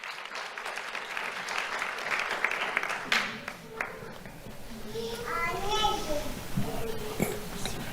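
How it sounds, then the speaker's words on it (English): Applause from an audience at a school awards ceremony, steady clapping for a few seconds that fades as a voice speaks over the tail. "Let's have a round of applause for Maria Flores Medina."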